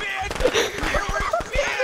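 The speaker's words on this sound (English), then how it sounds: "ah fireworks" Fireworks go off in the video game Friday the 13th as a rapid cluster of crackling pops and bursts, heard close and tangled with excited voices talking over them.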